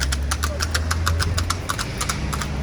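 Rapid, steady clip-clop of horse hooves on a hard surface in Georgia, with a low car engine idling underneath.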